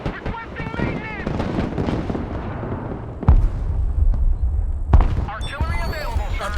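Artillery fire in the military strategy game Broken Arrow, heavy booms and a deep rumble arriving in a few big blasts, mixed with radio voices talking over the battle.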